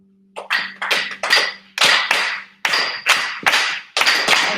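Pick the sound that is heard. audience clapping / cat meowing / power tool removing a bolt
audience clapping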